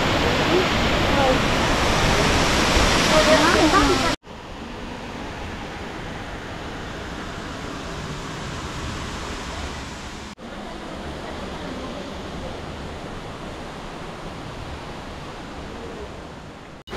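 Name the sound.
water rushing over Wawa Dam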